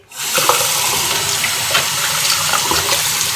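Tap water runs steadily and loudly from the start, splashing as a razor blade is rinsed under it at a bathroom sink, close by with small clinks.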